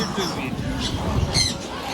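A young ring-necked parakeet chick gives harsh squawks at a busy bird market in Mirpur, over a constant backdrop of crowd chatter and nearby voices.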